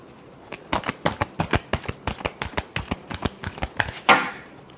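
Tarot cards are shuffled by hand in a quick run of about twenty crisp, evenly spaced riffling clicks, ending with a single brushing swoosh, close and clear with no talking.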